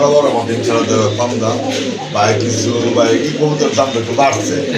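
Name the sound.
pigeons cooing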